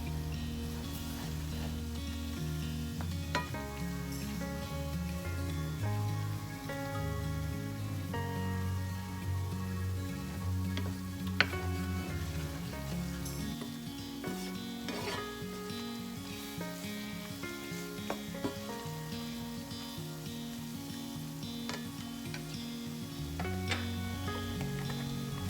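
Flour and fat roux sizzling in a pan for beef stroganoff, a steady soft frying hiss that goes on throughout, with quiet background music.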